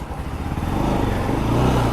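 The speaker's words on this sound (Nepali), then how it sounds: "बाइकको साउन्ड पनि स्मुथ छ आज" A freshly serviced NS200 motorcycle engine runs close by, giving a smooth, steady, low rumble that holds even throughout with no talking.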